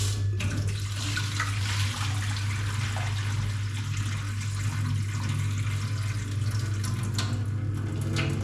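Water from a running tap pours steadily over maize and beans being washed, a loud, continuous splashing rush with no pauses and no voices.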